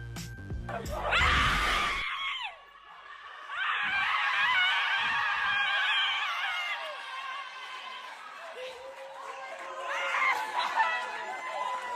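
UConn women's basketball team members scream loudly together in celebration, a sharp group shriek up front, then excited crowd chatter and overlapping shouting carry on with talking mixed in.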